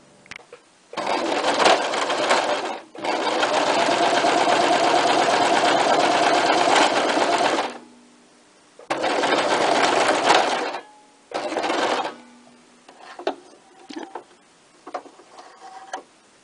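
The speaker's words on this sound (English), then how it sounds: "you can actually hear the threads getting caught and you can actually hear the thread snapping as well" A domestic sewing machine runs in long, loud, even whirring bursts separated by pauses. Poor thread tension makes the thread catch and snap, and toward the end come short irregular clicks and ticks.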